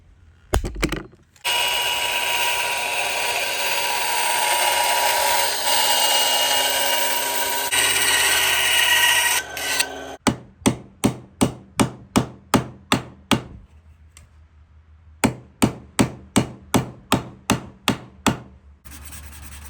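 Power tool trimming down a hatchet sheath: a steady grinding or sanding whine runs for about nine seconds, then gives way to a series of sharp, evenly spaced rasping strokes in two rapid bursts, close and loud.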